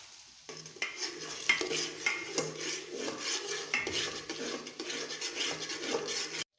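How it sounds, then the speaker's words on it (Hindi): Semolina roasts in ghee in a pan while a spoon stirs and scrapes it, soft sizzling under repeated metallic scraping strokes, close and fairly quiet, with no talk. "सूजी हमारी भुनी जा रही है।"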